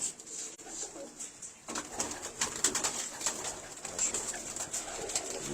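Pigeons of a show breed held for sale coo steadily, soft throaty calls repeating close by with a few light rustles and flutters, no voices.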